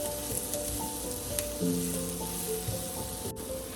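Spices and onions for bhindi sabji fry in a pan with a steady, close sizzle that continues under background music, with no speech.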